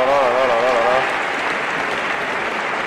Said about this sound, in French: vous entendez des applaudissements